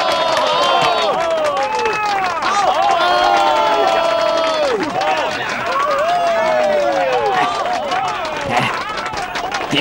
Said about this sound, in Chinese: 你听到刚才的掌声了吗？